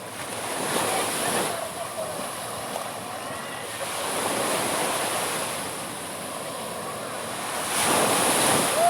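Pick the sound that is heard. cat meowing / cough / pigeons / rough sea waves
rough sea waves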